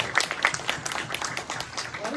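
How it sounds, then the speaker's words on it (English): Audience applause at a convention panel, irregular claps at moderate level with some voices audible underneath. "Can I get a round of applause for this?"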